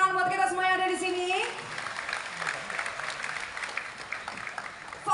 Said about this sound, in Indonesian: Oke, boleh tepuk tangan buat kita semua yang ada di sini.